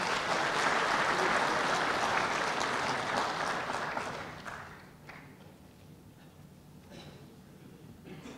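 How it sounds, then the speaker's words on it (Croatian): Audience applause welcoming a retired general as speaker at a book presentation, dense and steady for about four seconds, then fading to a few scattered claps and room noise. "Pozdravimo ga pljeskom."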